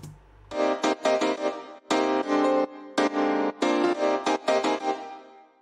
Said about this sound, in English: So this piano part is made of 3 different melodies, one playing on the left side of the spectrum, one on the right, and one in the center.